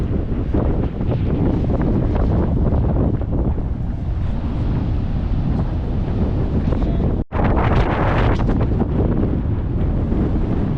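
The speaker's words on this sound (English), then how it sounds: "It's a little windy." Strong gusty wind buffets the microphone for the whole stretch, a roaring, rushing noise with one sudden brief dropout.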